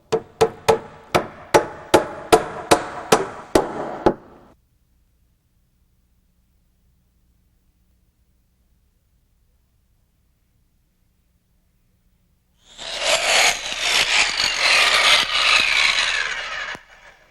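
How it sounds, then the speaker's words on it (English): A string of about eight sharp, evenly spaced hammer blows drives nails to toenail a wooden joist into the sill plate, each strike loud and close, followed by a long silence and then a burst of harsh, noisy tool sound. "It's also a good idea to toenail the joist into the sill plate for internal support."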